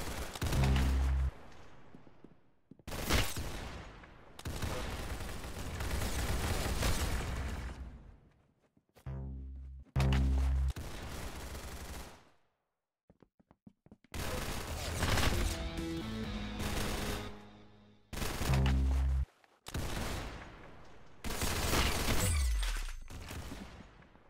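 Gunfire in the Roblox Arsenal shooter on the Sandtown map, loud rapid bursts of shots and impacts in repeated long volleys separated by short silent gaps.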